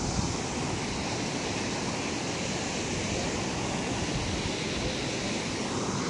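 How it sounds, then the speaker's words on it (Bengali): Mountain water rushes downhill beside a temple path in Manali, Himachal Pradesh, as a steady, dense roar of flowing water that stays constant throughout, with no voices over it. "এই দেখো পাহাড় থেকে কেমন জলটা নামছে।"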